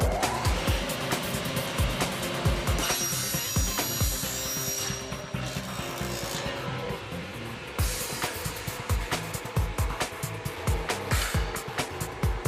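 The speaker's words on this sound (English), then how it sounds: "First, the tubes are cut down to size with a circular saw." A circular saw cuts metal tubes for a mountain bike frame in a factory, giving repeated sharp bursts of cutting and clatter over steady machine noise, fairly loud and continuous throughout.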